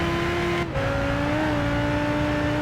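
Race car engine in the video game Gran Turismo 5, a loud sustained tone that dips briefly as the gear changes, then holds and climbs steadily, with no talking.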